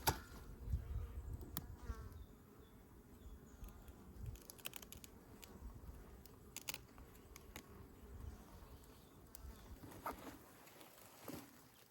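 Honey bees buzz in a steady low drone around an open hive, with occasional sharper passes of individual bees close by and faint handling noise throughout.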